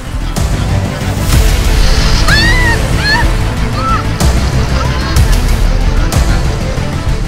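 Loud, constant surf roars and crashes nearby. A few high chirping calls rise briefly above the rushing water.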